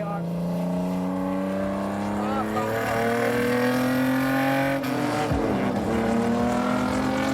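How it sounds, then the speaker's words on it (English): Classic Alpina BMW 2800 CS racing car on BMW's Dingolfing test track, its engine droning loud and steady as the revs climb gradually, with a brief gear change near the end. "Here we go with the Alpina BMW 2800 CS on BMW's test track in Dingolfing."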